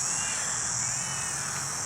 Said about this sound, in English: Bloody crows.